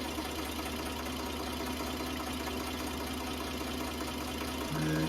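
Fendt Farmer 90 PS tractor engine idling, a steady, even low hum that runs unchanged throughout at moderate distance, with a slight rise in level at the very end.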